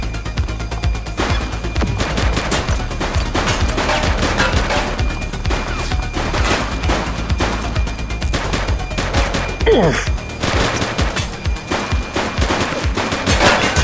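Gunshots in The Precinct: loud, rapid repeated shots and bursts of fire crackling steadily throughout, close and punchy, with a few heavier impacts mixed in.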